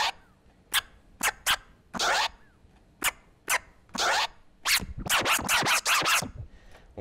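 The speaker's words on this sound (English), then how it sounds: "we're gonna do 2 forwards, 2 stabs" Turntable scratching in rapid bursts: a few separate stabs, then a quick run of short baby-scratch scribbles, loud and close with brief gaps.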